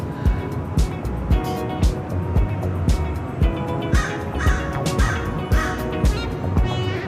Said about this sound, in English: Crow?